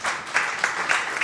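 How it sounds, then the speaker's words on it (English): Audience applause at a science forum, a short burst of crowd clapping at moderate loudness, with a few louder individual claps popping out of the steady patter. "Let's clap for them."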